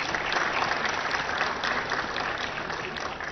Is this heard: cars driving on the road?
no